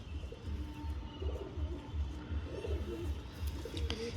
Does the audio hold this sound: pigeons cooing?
yes